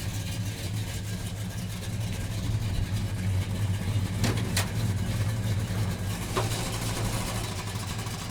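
Close, steady idle from a 1969 Plymouth Roadrunner's 383 V8 fitted with headers, a low lumpy rumble holding even throughout with a couple of brief sharp clicks in the middle.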